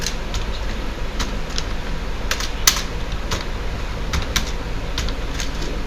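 Someone types an address on a computer keyboard in sparse, uneven keystrokes, with sharp clicks over a constant fan-like background hiss and no talking.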